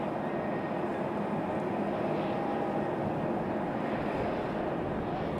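A Boeing 737 airliner taxiing at Raleigh-Durham airport gives off a steady, broad jet-engine rumble and hiss, fairly distant and constant from start to finish, with no talk over it.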